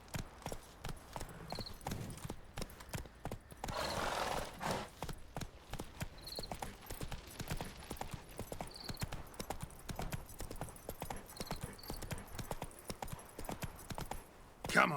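Hooves of the horse Roach galloping in The Witcher 3: rapid, rhythmic clip-clop that runs steadily throughout, fairly faint, with a brief rush of wind or breath and occasional soft game sounds.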